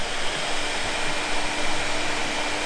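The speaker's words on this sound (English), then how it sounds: "the heat gun is slowly starting to strip it all back" A heat gun strips body filler from the rear wheel arch of a Ford Landau with a 351 engine, giving a loud, steady, unbroken blowing roar close by.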